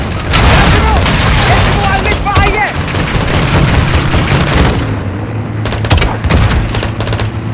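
A light machine gun rattles off rapid, loud bursts in Call of Duty: Modern Warfare II (2022) in Urzikstan, with dense firing for several seconds that gives way to scattered shots and rumble while voices speak.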